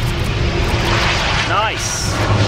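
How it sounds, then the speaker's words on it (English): A Dornier aircraft lands at an airshow, a steady broad engine and airframe roar held at constant loudness throughout, with a brief whistling tonal sweep partway through over crowd noise. "Pretty impressive landing this Dornier."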